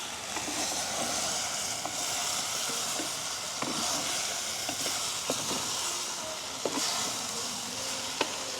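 Drumsticks sautéing in a pan for a village-style curry, a steady close sizzle and hiss with occasional stirring scrapes and clicks throughout, no voices.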